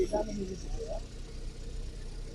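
A 1996 Opel Caravan with a 1.6 petrol engine idles in a steady low rumble, close by, while a voice talks briefly over the opening moments.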